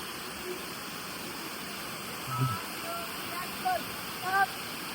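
Water from a waterfall or stream in Rishikesh rushes in a steady broadband hiss, with people talking faintly in the foreground at moments.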